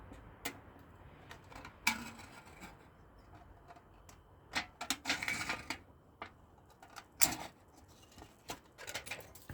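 Scattered sharp snips and clicks, close and dry, come at irregular intervals over a quiet background as scissors trim the edge of a thin aluminum can.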